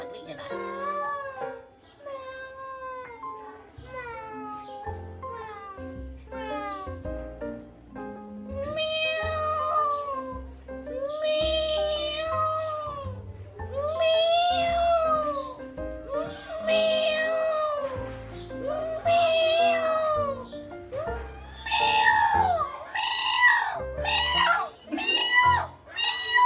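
A voice mimics a big, stout cat meowing in an animal sound effect challenge, with repeated drawn-out meows that grow louder and higher toward the end, close and mostly alone.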